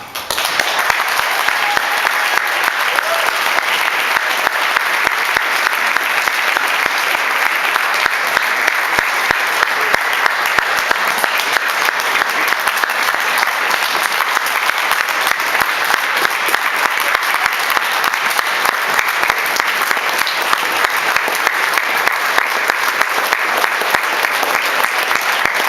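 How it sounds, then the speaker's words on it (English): Audience applause at a lifetime achievement tribute, a loud, dense and sustained wall of clapping from a large crowd that continues evenly throughout. "we love him, and we applaud him"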